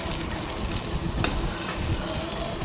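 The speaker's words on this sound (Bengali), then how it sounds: "এই যে ডিমটাকেও ভেজে নিচ্ছি" An egg frying in a pan, giving a close, continuous crackling sizzle with a few sharper spatters and stirring scrapes throughout.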